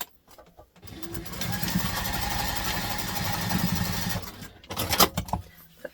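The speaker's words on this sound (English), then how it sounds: "I'm going to pop this across and we're going to stitch it" A sewing machine stitching fabric for a Wayfarer II backpack runs steadily for about three seconds after a short pause, then stops, followed by faint handling clicks and rustling.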